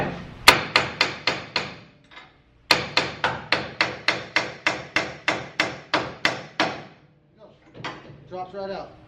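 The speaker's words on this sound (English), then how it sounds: "got my little hammer." A hammer strikes a metal suspension part on a Nissan 240SX in rapid, evenly spaced blows, two bursts of ringing clanks, loud and close, followed by a few softer knocks.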